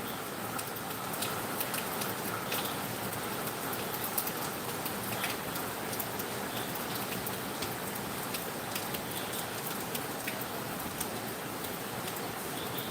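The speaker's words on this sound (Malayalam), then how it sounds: "ആഹാ മഴ" Steady rain falls on surfaces with dense patter and scattered distinct drips, moderately quiet and continuous, with no talking.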